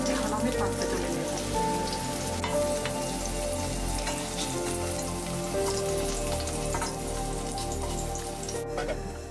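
Mango pieces frying in mustard oil for a Bengali mango fish curry, a dense, steady crackling sizzle like rain on a surface, close and continuous with faint scrapes.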